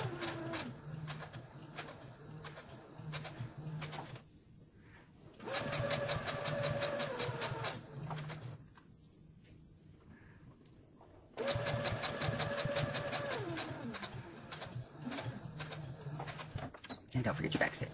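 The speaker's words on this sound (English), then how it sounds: "You're sewing just on the edge of it." A sewing machine stitches along the edge of a cotton face mask, its steady motor whir running in bursts with short pauses between seams, and a voice talks between and over the stitching.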